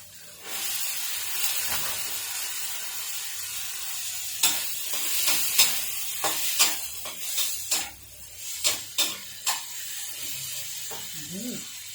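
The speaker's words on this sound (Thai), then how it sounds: "เดี๋ยวเราใส่ถั่วลงไปเลยค่ะ" Beans hiss and sizzle in a hot pan while being stir-fried, a steady frying crackle broken by repeated scraping strokes of a spatula, close and clear, with faint background voice at times.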